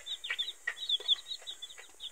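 Soft clucking and chirpy calls from hens, several short bursts in a loose rhythm, close by with no talking.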